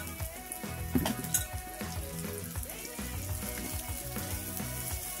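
Pounded chilies and aromatics frying in hot oil for stir-fried minced beef with holy basil, a steady close sizzle with crackling pops and a few stirring scrapes, no talking.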